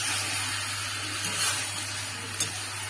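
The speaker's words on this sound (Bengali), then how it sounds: "এবার এই মশলার মধ্যেই আমি সিদ্ধ করা কচু শাকগুলোকে দিয়ে দেবো।" Boiled taro greens dropped into frying spice paste in a pan, heard as a steady close sizzle with a low hum underneath and a brief clink near the end, with no talking.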